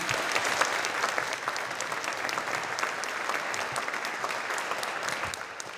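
Sustained applause from a concert audience at a brass band performance in a philharmonic hall, dense steady clapping throughout, evenly loud, with no voices over it.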